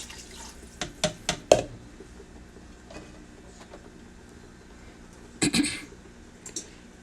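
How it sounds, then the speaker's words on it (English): Water being poured into a pot of beef and vegetable soup in a few short splashing bursts, with a quiet gap between and a final cluster of splashes near the end, close and fairly loud. "Now I'm going to add the rest of that water for the 2 cups."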